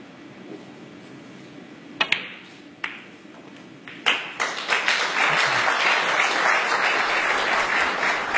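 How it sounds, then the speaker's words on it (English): Audience applause at a professional snooker match at the 2012 Bulgarian Open, starting with a few scattered claps and building into sustained, loud clapping from a crowd after a frame is won. "That was what the applause was for."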